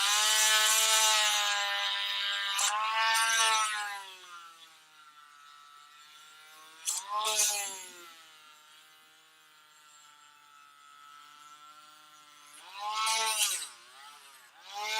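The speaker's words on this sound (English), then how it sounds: "I'm gonna actually cut some of this plastic out" High-pitched whining rotary tool with a sanding bit cutting into a plastic toy part in bursts, its pitch rising and falling as it bites, with quieter pauses between passes.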